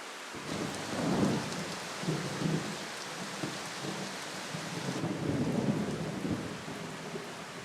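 Heavy tropical rain pours steadily over the Southeast Asian jungle of Borneo while low thunder rumbles roll through in several swells, loud and enveloping with no voices.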